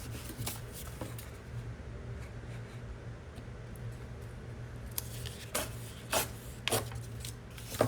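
Paper being creased and folded by hand for a torn-edge cover, a run of soft rustles and crisp crinkling bursts close by, growing sharper toward the end over a low steady hum.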